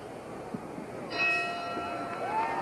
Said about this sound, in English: The bell for round 1.